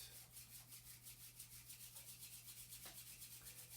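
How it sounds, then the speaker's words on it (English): Two palms rub briskly together to make heat, giving a soft, close, steady swishing friction sound in an even back-and-forth rhythm of about eight strokes per second, quiet and alone. "bring your palms together and start to rub them"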